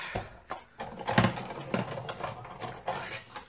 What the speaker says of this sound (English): So we just grab whatever die cutting machine you have.